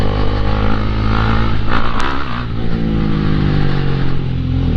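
A KTM 390 Duke single-cylinder motorcycle engine runs with a steady low harmonic drone and a brief rise in revs partway through, loud and close with no talk.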